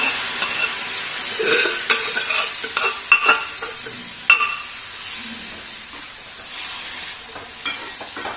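Cooked horse gram (muthira) being stir-fried in a pan as its water cooks off, with steady soft sizzling and repeated scraping stirs, fairly close and with no talking.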